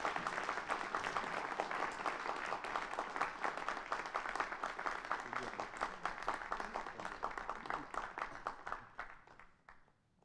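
Audience applause welcoming author Ernestine Hayes to a reading, a dense steady clapping crowd sustained for about nine seconds before fading out.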